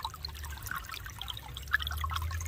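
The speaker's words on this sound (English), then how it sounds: "Stream close up." Stream water trickling through a gold prospecting sluice in Carolina, a soft, steady close-up flow with small splashes and a low rumble underneath, quiet and continuous.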